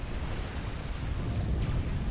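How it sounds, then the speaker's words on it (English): Distant explosion in the real-time strategy game Supreme Commander, heard as a low rumbling boom that swells and lingers as a dull continuous roar with faint crackles, no voices over it. "And another explosion."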